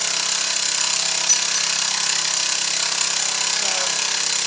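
A machine rough-cutting a metal cross slide dovetail produces a steady, loud grinding hiss that runs without a break, with no voices over it.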